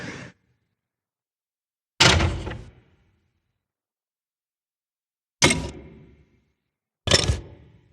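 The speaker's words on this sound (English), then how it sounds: "hatch sounds" Steampunk-style hatch sound effects from a sample pack play one after another: four separate heavy metallic clanks and thuds with short reverberant tails, separated by silence.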